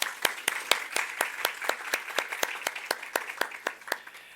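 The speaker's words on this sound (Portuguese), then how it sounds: "Primeiro, uma salva de palmas" Sparse, evenly spaced claps ring out at a steady rhythm after a keynote lecture on computational systems for autonomous vehicles, sounding like a small audience clapping in a quiet room.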